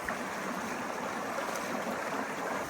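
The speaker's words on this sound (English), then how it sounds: "The river is ankle deep, wall to wall." A shallow, ankle-deep river flows steadily through a narrow canyon in the American West, giving a continuous broadband rushing wash with no pauses and no voices.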